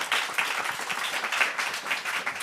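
An audience applauding speakers at the end of a conference panel discussion on biotech, a steady wash of many hands clapping at moderate distance, continuous and fairly even throughout.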